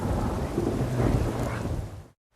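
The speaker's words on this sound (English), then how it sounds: "A storm, damn it." Thunder rumbles through a heavy rainstorm in The Witcher 3 game, loud and continuous before cutting off abruptly near the end.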